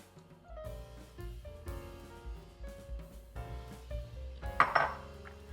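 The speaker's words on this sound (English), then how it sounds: "now we add 3 eggs" Three eggs go into cheesecake batter in a bowl, with scattered clinks and taps of shell, utensil and bowl, separate knocks building to a brighter clatter near the end.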